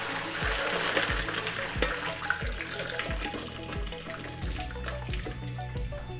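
Cooked pasta and its water poured into a colander, a continuous rushing, splashing pour of water with small knocks, moderately quiet and without talk.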